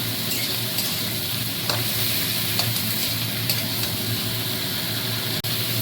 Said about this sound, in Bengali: এই মাছের ঝোলের আলুটা দিয়ে দেবো। দিয়ে একটু ভেজে নেব।